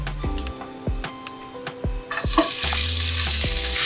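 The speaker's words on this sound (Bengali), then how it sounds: "এক টেবিল চামচ পরিমাণে সরিষার তেল দিলাম আগে দিয়ে দিব করলা" Bitter gourd dropped into hot mustard oil in a pan, a few clattering knocks followed by a bright, loud sizzle that swells and holds steady, close and without speech.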